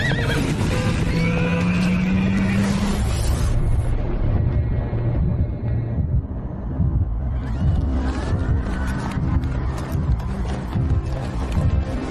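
A horse neighs loudly and shrilly up close, with clip-clop hoofbeats and a dense, busy cartoon-style soundtrack layered around it.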